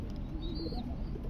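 A Chila pigeon gives a soft, faint coo, brief and quiet against low background noise.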